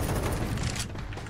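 Gunfire in the video game Counter-Strike 2: a burst of rapid, crackling shots and booms for most of the clip, then thinner scattered pops as the noise eases off, heard without commentary.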